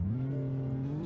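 A BMW car engine revs in the Roblox game Greenville, a brief, steady low drone with a slight upward pitch toward the end, heard alone and fairly faint.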